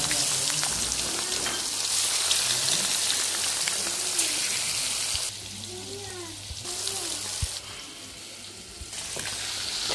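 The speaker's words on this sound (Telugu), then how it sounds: "చేప ముక్కలు బాగా ఫ్రై అయినాయా? బాగా ఫ్రై అవుతుంది." Fish pieces fry in oil with a constant crackling sizzle that carries at an even level throughout, while a voice talks quietly over it.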